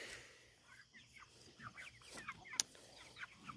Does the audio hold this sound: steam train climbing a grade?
no